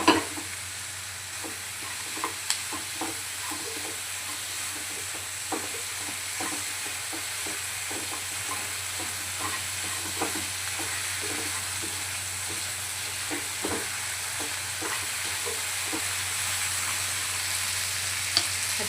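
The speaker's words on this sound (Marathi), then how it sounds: "आता वरतून आपण हळद, मीठ ॲड करून परत यांना छान मिक्स करून घेऊया." Mutton curry masala fries steadily in a pan as turmeric and salt are stirred in, a continuous close sizzle with repeated scraping of the spoon throughout, no voices.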